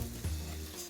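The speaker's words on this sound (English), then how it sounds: "What I want to do now is caramelize, sizzle, fry, get them to become a little golden brown" Sliced ripe peaches and plums, skin on, frying in a hot pan to caramelize: a steady, dense sizzle and crackle heard close up, with no voices over it.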